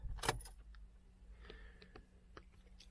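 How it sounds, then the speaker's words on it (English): A key is turned in the ignition of a VW Golf MK7, starting with a sharp jangle of keys and followed by a few faint clicks in an otherwise quiet car interior. "So let's turn the ignition on."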